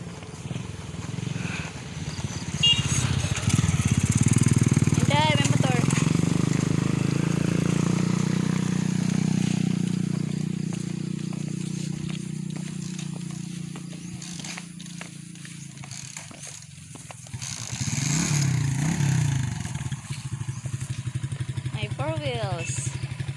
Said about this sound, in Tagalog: may motor pa